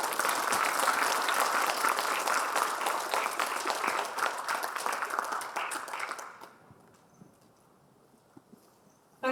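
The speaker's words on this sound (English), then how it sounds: "let's give a very warm applause to our distinguished panelists" Warm, dense applause from a conference session audience for the panelists, a steady wash of many hands clapping for about six seconds before it quickly thins and fades into quiet room noise.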